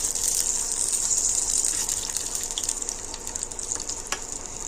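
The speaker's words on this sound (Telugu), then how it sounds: "పచ్చిమిరపకాయలు వేగినాయి" Green chillies frying in a pan of oil in a village kitchen, a strong continuous hissing sizzle with scattered crackles and pops, close up and steady throughout with no talking.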